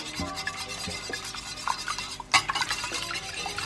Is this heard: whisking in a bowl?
yes